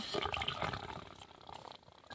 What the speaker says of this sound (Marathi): थोडंसं परत पाणी टाकते मी